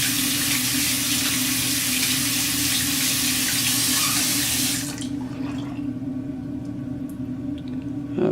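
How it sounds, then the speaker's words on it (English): Tap water runs loudly into a sink while makeup brush bristles are rinsed, a steady broadband splash for about five seconds before the flow drops to a quieter trickle. "Then I'm going to rinse the bristles out."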